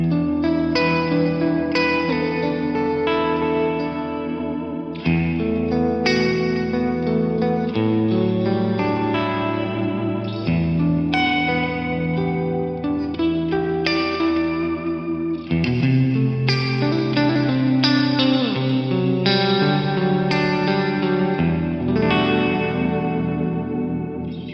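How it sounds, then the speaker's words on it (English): A clean electric guitar plays sustained chords in a steady strum through an 80s-style clean amp preset, washed in heavy reverb and chorus that blur into a lush, pad-like wash with no voices. "I've got a load of reverb on that, and this is kind of the cleanest that this amp gets."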